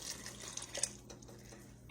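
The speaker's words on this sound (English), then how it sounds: "So what I'm going to have to do, if yours does like this, add you a little water." Water being poured from a cup into a pot of chicken and rice on the stove, a soft splashing trickle up close, ending in a sudden loud sizzle or clatter.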